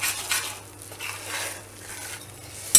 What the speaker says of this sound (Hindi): इसको गैस से नीचे उतारते हैं और इसको चलाते ही रहना है क्योंकि अभी भी ये कढ़ाई बहुत ही गर्म है।